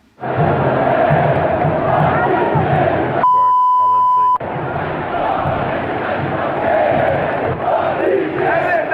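Flamengo football supporters chant loudly in a packed stadium, a dense roaring mass of voices that a long censor beep cuts off briefly partway through.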